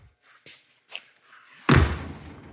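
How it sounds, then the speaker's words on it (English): Wood-framed door of a 1933 Auburn V12 speedster swings shut with a solid, close thump after a few faint taps, followed by a brief rattle that fades away. "Just look at how these doors close. A wood-framed door, 91 years old."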